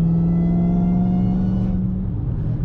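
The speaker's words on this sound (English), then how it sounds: "I love that intake sound." A 1100 hp Dodge Charger Redeye Widebody on drag radials drones steadily under acceleration, a loud deep engine tone with a whooshing intake roar, easing slightly toward the end.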